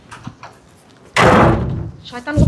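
A door bangs shut in a home with a loud, abrupt thud that rings on briefly, coming after a stretch of quiet voices and followed by more talk.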